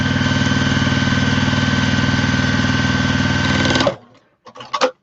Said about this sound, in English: I'll just sew these together to get a nice length.